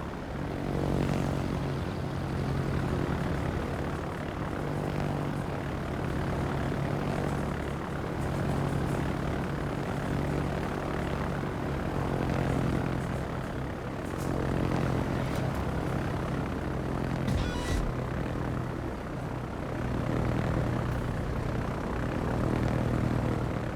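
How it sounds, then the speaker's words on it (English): Torpedo bomber aircraft launching from the carrier Yorktown in a naval video game, their propeller engines droning steadily and loudly throughout, with a continuous rising and falling hum and no voices. "He's got the torpedo bombers going out."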